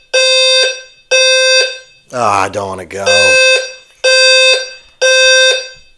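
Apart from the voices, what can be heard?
fire alarm going off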